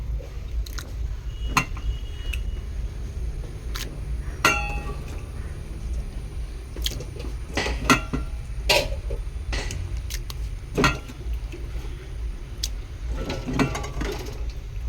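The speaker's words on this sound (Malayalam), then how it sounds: "ഞാൻ എല്ലാം ഇട്ടു ഇളക്കുന്നുണ്ട്" Ingredients being stirred in a pan in a home kitchen, with irregular close scrapes, clinks and rattles of the spoon against the pan over a low steady background, and no voices.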